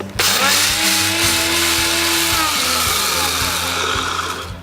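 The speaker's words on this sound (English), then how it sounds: "so I pop it into my blender and give it literally a few seconds blitz." A kitchen blender blitzes cooked rice for a few seconds, a loud, close motor whine starting abruptly and holding steady with rhythmic chopping pulses before winding down.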